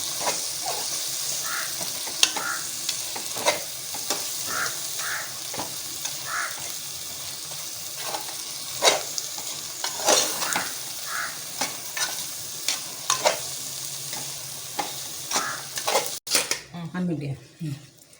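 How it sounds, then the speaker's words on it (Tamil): Onions and tomatoes are sautéed in a pan for chicken biryani, a low steady sizzle with repeated light spoon scrapes and taps against the pan, a brief clatter near the end. "அது வதங்கிருச்சு வெங்காயம் தக்காளி எல்லாம் வதங்கிருச்சு"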